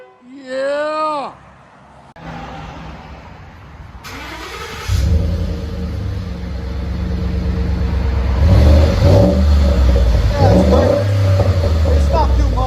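A 2015 Ford F-150 with a 5.0L Coyote V8 and MBRP muffler exhaust starts and settles into a deep rumble, with revs swelling loudly near the end; people talk over the start.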